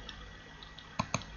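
A mouse click on a website banner: two short, crisp clicks close together near the end, faint against a quiet background hum.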